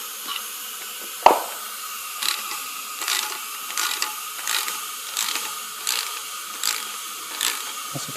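Ratchet wrench cranking down the nut on an air-held valve spring compressor, working a valve spring on an LQ9 engine in a 1967 C10; a sharp clack, then a steady series of ratchet clicks, close and moderately loud, no talking.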